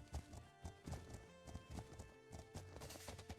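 Horse hooves clip-clop steadily in The Legend of Khiimori, a quiet rhythmic trot of even beats under soft ambient game sound and music.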